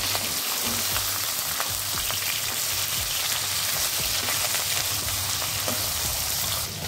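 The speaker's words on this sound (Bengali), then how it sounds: "এই মাছটা নরম, একবারে আমি এটা ভাজবো না, দুবারে ভেজে নেব।" Pieces of soft pabda fish frying in hot oil in a pan give a dense, continuous crackling sizzle with small pops, close and steady throughout.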